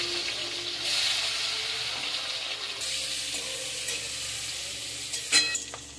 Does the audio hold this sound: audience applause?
no